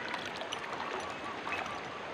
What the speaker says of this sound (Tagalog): dito na naglulusong na tayo sa tubig